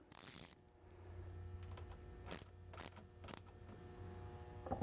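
A 1/2 inch ratchet clicks in short bursts while tightening the clamp of an MGW race-spec shifter on a Mustang MT-82 gearbox, with several distinct ratcheting runs over a low mechanical background.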